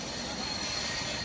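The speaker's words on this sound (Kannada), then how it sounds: "ದಾಂಡೇಲಿಯ ರೈಲ್ವೆ ಸ್ಟೇಷನನ್ನು ದಾಟುತ್ತಿದೆ ಡೆಮೋ ರೈಲು." A DEMU passenger train departs Dandeli railway station bound for Alnavar, producing a continuous rolling rumble with faint high squealing, moderately distant and steady throughout.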